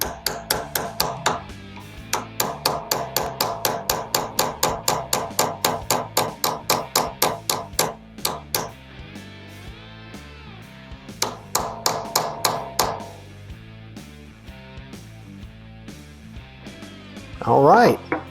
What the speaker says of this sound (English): Get it started by hand, and same thing, driving it into place.